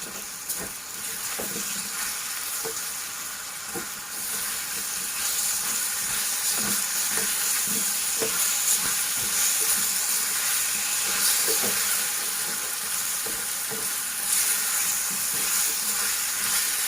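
Potatoes and onions frying in a pan as ginger garlic paste is stirred in for a dried spinach and potato sabzi, with a steady close sizzle and hiss and scattered soft clicks of stirring throughout.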